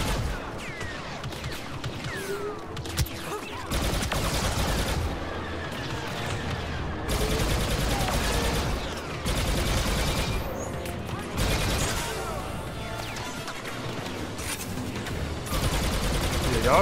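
Rapid blaster and gunfire bursts in the Star Wars Battlefront II Resurrection DLC, dense and loud, with repeated volleys and booms running almost throughout, broken by a few brief lulls and with voices talking over it.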